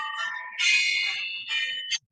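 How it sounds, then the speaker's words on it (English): A phone alarm goes off nearby with a bright electronic tone in a few loud, sustained bursts that cut off abruptly at the end, with no talking. "Why do I have a 3 o'clock alarm on Thursday?"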